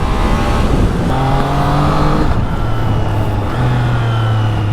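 A Triumph Trident 660 streetfighter motorcycle accelerates hard, its engine note climbing steadily through the gears with loud, continuous revving and wind rush, no voices present.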